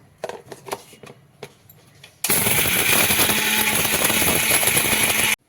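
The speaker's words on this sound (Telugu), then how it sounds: "మనం ఫ్రై చేసుకున్న మసాలాని, సాంబార్ పౌడర్ని మిక్సీ వేసుకుందాం." A kitchen mixer grinder whirs loudly as it grinds fried masala and sambar powder, a steady close roar that starts abruptly after a few soft knocks and runs for about three seconds before stopping sharply.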